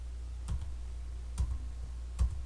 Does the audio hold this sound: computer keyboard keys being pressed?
yes